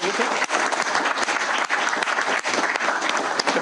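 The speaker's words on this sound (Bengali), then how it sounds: "আমরা সবার জন্য একটা তালি" University students in a hall applaud in a dense, loud, continuous burst during a meeting with Dr. Yunus at Begum Rokeya University.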